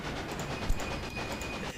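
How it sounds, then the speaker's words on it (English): Trains running in the railroad-building game Railway Empire, a steady rumble of wheels and rolling wagons with faint clickety-clack and a thin high whine, no talking. "so we got 2 trains running there"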